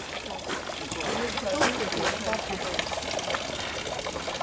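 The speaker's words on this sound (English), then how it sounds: "You take the water and you're supposed to wash your hands." Water pours and splashes steadily at a shrine's hand-washing fountain in Kyoto, a continuous trickling gush close by with people talking over it.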